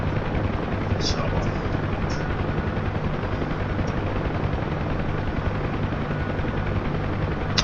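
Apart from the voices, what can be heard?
Huey helicopter flying at low speed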